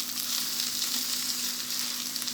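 Meat and onions frying in a pan, a steady, close, dense sizzle that continues without a break.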